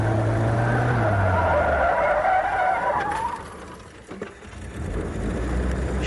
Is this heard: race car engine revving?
yes